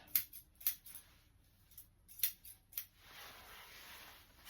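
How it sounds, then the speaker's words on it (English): Curved scissors snip at the face fur of a small teddy-bear-trimmed dog, a few quiet, close crisp cuts in uneven bursts followed by soft rustling. "use my curved scissors."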